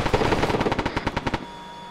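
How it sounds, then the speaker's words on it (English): A rapid burst of heavy machine gun fire in the Arma 3 military game, roughly a dozen evenly spaced loud shots in quick rhythm that cut off abruptly, leaving a brief quiet tail. "HMG."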